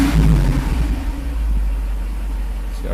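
A car with a freshly rebuilt fuel distributor revs up from a steady idle as the throttle opens, a deep engine drone swelling briefly then settling to a constant hum, close by with no talk.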